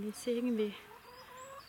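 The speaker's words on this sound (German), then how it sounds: "darf ich vorstellen, das ist mein Huhn" A pet hen with paralysed legs clucks in a few short, close vocal bursts, while a person talks briefly under and around them.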